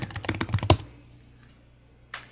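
A quick flurry of keyboard typing, several sharp clicks in a fast burst, then quiet, with one more soft tap at the end.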